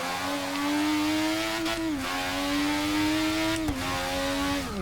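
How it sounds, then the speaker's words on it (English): Ayrton Senna's McLaren Honda MP4/4 racing car in Forza Motorsport 6 screams under hard acceleration with a manual gearbox, its rising engine note snapping down at two quick upshifts; loud, close and steady, no voices. "This is pure engine right here. Sounds so good. Sounds so like mechanical"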